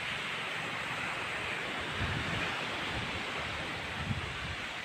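Steady ocean surf rolls along a seashore in a broad, continuous wash, with slightly stronger swells around the middle and near the end, heard alone without voices.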